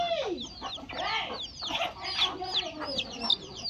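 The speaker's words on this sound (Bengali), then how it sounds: "এইদিকে মুরগিকে খাবার দিচ্ছে খাদিজা।" Chickens clucking and squawking at a farm while being given feed, several birds calling close by in overlapping bursts with a steady busy chatter throughout.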